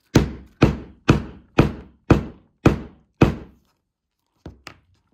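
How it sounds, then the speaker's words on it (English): Seven loud, evenly spaced hammer blows drive a grommet setter into a fabric zipper pouch, each a sharp close thunk about half a second apart, followed after a pause by two lighter taps. "And then I'm gonna pound a couple times really loud."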